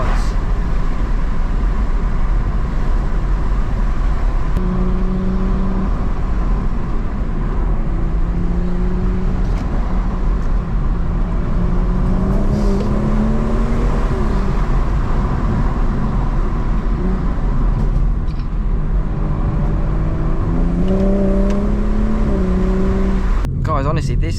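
Stage 1 BMW M240i tuned to 420 bhp accelerating hard in sport mode, engine note rising and falling through gear changes, steady and close from inside the cabin, with people talking over it.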